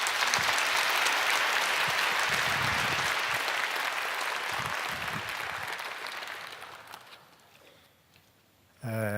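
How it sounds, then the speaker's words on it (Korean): A church congregation applauding as Pastor Choi Hong-jun comes forward, with loud, dense clapping that fills the hall at first, thins out and fades, followed by a sudden burst of sound at the very end. "최홍준 목사님 나오실 때 보내주신 하나님께 영광의 박수 올리도록 하겠습니다."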